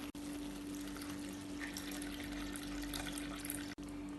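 Second coconut milk pours into a simmering mixed fruit payasam made with jackfruit, mango and dates, giving a steady liquid rush across the whole moment at low volume, with no speech.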